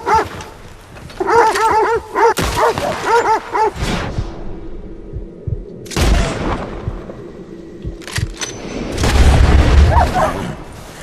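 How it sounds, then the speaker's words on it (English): In Red Dead Redemption 2, a civilian's dogs attack, with loud bursts of barking up close mixed with booming gunshots and heavy low rumbles through the fight. "That civilian just sent their dogs at me"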